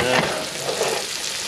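Fluke fillet frying in melted butter in a pan, a close, steady sizzle with soft crackling and a brief stir near the start, no voices.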